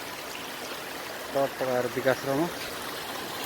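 A mountain stream flows with a steady, broadband rush of water throughout, while a voice briefly talks over it near the middle.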